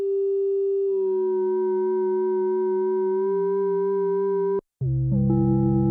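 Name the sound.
synthesizer FM with sine waves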